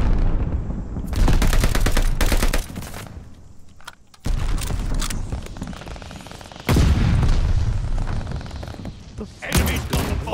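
Loud, rapid gunfire bursts from a Call of Duty: Vanguard Search and Destroy match, with dense shooting sections broken by short pauses and heavy booming impacts.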